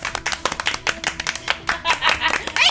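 Crisp rhythmic clapping from a small group of characters in the video game Phoenix Wright: Trials and Tribulations, quick bursts of hand claps close and loud with brief gaps, with a player talking in between.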